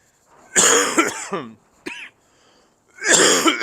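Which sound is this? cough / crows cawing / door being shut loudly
cough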